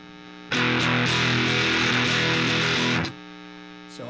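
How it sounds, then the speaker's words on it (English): A guitar amp cranked to a high gain setting with the tube voice engaged roars with a thick, sustained distorted tone. It holds loud and steady for about two and a half seconds, then drops back to a quieter hum. "So obviously a lot more noise, a lot more gain."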